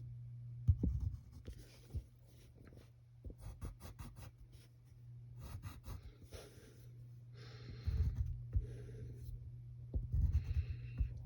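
A pencil scratches across paper, drawing the straight lines of a checker pattern in a sequence of short strokes, quiet and close over a low steady hum.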